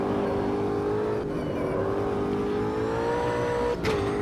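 An Ultima GTR race car in Automobilista 2, lapping Brands Hatch, gives a close, steady engine drone rich in harmonics, its pitch wavering slightly and dipping briefly near the end, with no talk.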